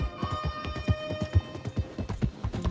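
Horse hooves pound in a fast running gallop in the video game Red Dead Redemption 2, a steady rhythmic thudding of hoofbeats close up with a faint tonal hum underneath.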